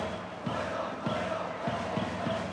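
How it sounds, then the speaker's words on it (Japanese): A stadium crowd cheers in the eBASEBALL Powerful Pro Baseball 2022-2023 game, Hanshin vs Orix, a steady roar driven by evenly spaced, rhythmic drum-like thumps. "若月、ひときわ大きな声援が聞こえます"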